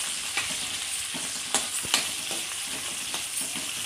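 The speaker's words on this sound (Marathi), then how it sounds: "मिरच्या चांगल्या परतून घेते" Green chillies sautéing in a pan for a dry fenugreek-leaf bhaji: a constant crackling sizzle punctuated by several sharp spatula scrapes and taps, close and clear.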